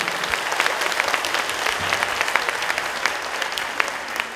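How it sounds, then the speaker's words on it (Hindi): Sustained applause from a crowd gathered for a Dussehra Ravan Dahan celebration, thanking the performers, a steady dense wash of many hands clapping at moderate distance throughout. "चलो एक बार फिर जोर से तालियां बजाकर इन सभी कलाकारों का धन्यवाद करें"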